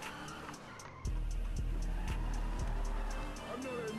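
Car tires skid and squeal in GTA roleplay, a loud engine drone with repeated thumps and squeals under talking voices.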